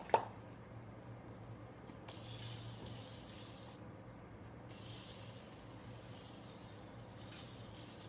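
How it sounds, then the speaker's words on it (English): A pump-up garden sprayer mists mane and tail spray onto a horse in two longer hissing bursts, quiet and close over a low background hum. "now I'm going to spray her with the mane and tail spray"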